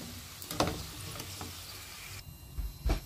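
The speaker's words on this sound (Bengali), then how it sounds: "এগুলো খুব তাড়াতাড়ি ভাজা হয়ে যায়" Food sizzles in hot oil in a home kitchen while Eid dishes are cooked: a steady, close, crackling hiss with a few sharper pops, and a brief change in the noise near the end.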